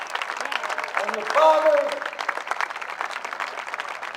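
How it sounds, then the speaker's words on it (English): A crowd applauds for the mothers at a Little League regional championship, broad clapping swelling under someone speaking over a loudspeaker, then continuing beneath his voice. "You mothers, I think, deserve a great round of applause from everybody"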